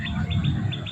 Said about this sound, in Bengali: পাখিগুলো এসে গেছে